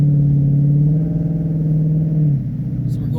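A 2016 Ford Mustang GT on Blizzak WS90 winter tires rolls through slush, giving a loud, steady low engine drone with a slight shift in pitch partway through.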